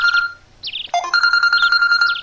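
A telephone rings with an electronic ringtone, repeated melodic beeps in short bursts that pause briefly and then resume, loud and close in an otherwise quiet room.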